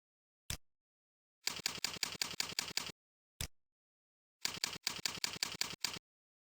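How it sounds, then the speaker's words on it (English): Someone types a password on a computer keyboard. Two quick runs of crisp keystroke clicks are each preceded by a single isolated tap. The clicks are close and fairly quiet, with no voices. "Choose a password and type it in these two boxes."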